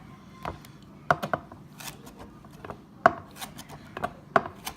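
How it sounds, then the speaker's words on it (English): Knife chopping squid into calamari rings on a cutting board, a series of sharp close taps at irregular intervals with faint rubbing and scraping between cuts. "Chop them into rings"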